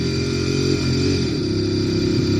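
A 2016 Ducati Monster 821 motorcycle engine runs in first gear, giving a close, loud, steady drone with a brief shift in pitch partway through.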